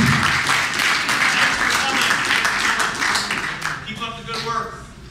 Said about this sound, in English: That's a pretty enthusiastic applause for some people that have heard some very difficult news.